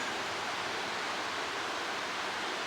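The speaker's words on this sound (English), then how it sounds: "the river is flowing quite heavy down there" Heavy, fast-flowing river near abandoned Victorian colliery ruins, a continuous broadband rush of water, steady and fairly distant, with no voices.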